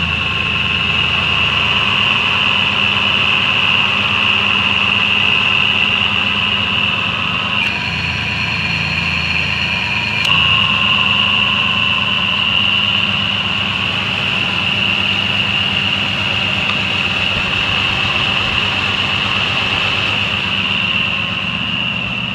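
A 1999 Ford Ranger XLT pickup engine idling steadily with the hood open, a constant loud hum and whine with a short higher tone partway through, no talking.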